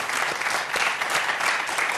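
Studio audience at a television show breaking into applause, a thick, continuous roar of many hands clapping at once, loud and sustained.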